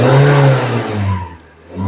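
An old Naza Citra car engine, with a fuel injector fuse fault, runs at a low, uneven idle, a steady close mid-low hum with slight wavering through the short stretch.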